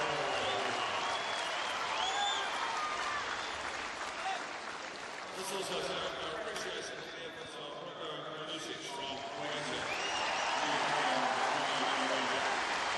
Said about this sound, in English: Huge ovation for this charismatic Spaniard.